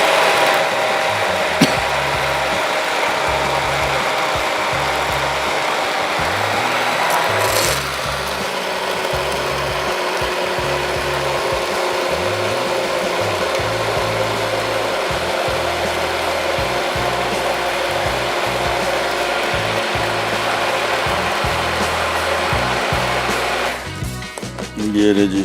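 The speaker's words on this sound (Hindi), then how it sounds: "इसको खूब अच्छी तरीके से ग्राइंड करना है।" An electric grinder grinds dry spices such as coriander seed, a loud continuous motor whine with a pitch shift partway through, running alone close up.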